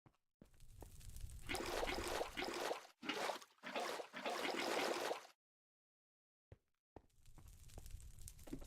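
Water pours into a machine in a blocky building video game, arriving as several separate bursts of splashing, trickling flow with short silent gaps between them, fairly faint and with no voices.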